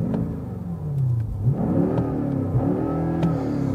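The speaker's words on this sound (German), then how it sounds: "Bin mal ruhig zur Abwechslung und gebe ein bisschen Gas." A 2020 BMW X5 M Competition engine (625 PS) revs repeatedly through its sport exhaust, rising and falling in pitch with a deep, throaty exhaust rumble, heard from inside the vehicle.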